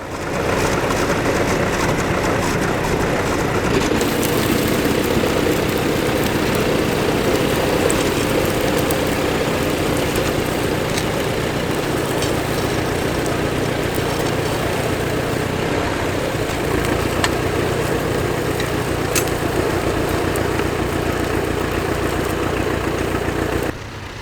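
A tractor engine drones at a steady, loud pitch throughout a ploughing match at Rearsby, where it turns furrows with its left-hand wheel riding on top, holding one constant tone without breaks.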